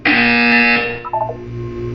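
A loud electronic buzzer from the video game Portal 2 blares steadily for under a second, then cuts off into quieter tonal game sounds.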